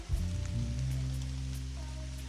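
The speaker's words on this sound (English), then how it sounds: "Rain just got on there." Rain falling directly onto an outdoor recording device, a brief patter of drops tapping close to the microphone over a steady low hum.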